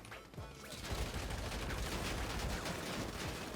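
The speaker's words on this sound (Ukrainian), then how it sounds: "стріляють, стріляють" Bursts of rapid gunfire crackle continuously, fairly loud and dense, like an automatic weapon volley in a game.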